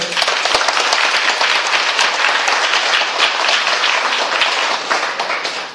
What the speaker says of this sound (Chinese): 给自己掌声